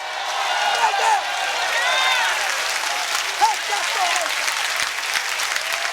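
A church congregation applauds during a sermon, with steady, dense clapping mixed with shouting and cheering voices that swell and fade throughout.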